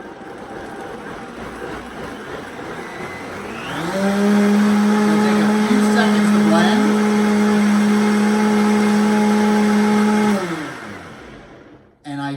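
A blender whirs steadily for about six seconds as it chops cherries for popsicles, loud and close, starting up after a quiet room and then winding down.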